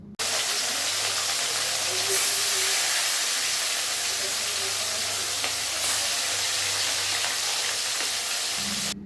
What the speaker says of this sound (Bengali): মাছ ভাজার সময় তেলটাকে খুব ভালো করে গরম করতে হবে